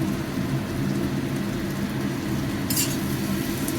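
Tangra fish hitting hot fried spice paste and oil give a dense, steady sizzle and crackle, close and continuous, with a brief brighter spatter near the end.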